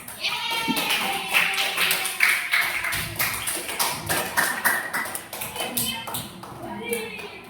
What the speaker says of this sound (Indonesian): Tepuk tangan untuk semuanya tuh.